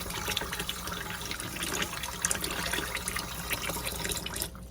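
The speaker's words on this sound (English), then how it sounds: "you want to rinse it until your water runs clear" Tap water runs steadily into a sink while homemade butter is rinsed, a continuous close splashing stream with small irregular spatters and no voices.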